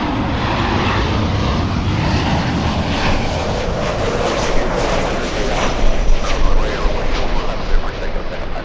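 An Avianca airliner in Star Alliance special livery at Los Angeles airport, a loud continuous jet engine roar with broadband rumble that swells slightly toward the end, heard from fairly close.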